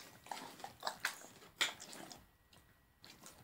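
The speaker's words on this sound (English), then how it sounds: "You don't have to feed the dogs on the table." A dog eats cheese fed to it from a dining table, making faint, close smacking and chewing clicks in short irregular bursts, with quiet pauses between them.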